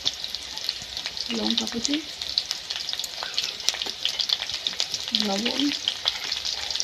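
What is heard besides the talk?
bitter gourd with chopped onion frying in pan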